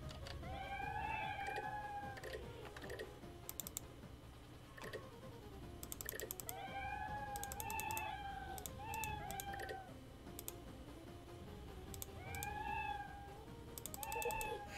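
A cat meows over and over, each cry rising and falling, under a constant background hum. Rapid keyboard typing clatters between the meows, and nobody speaks.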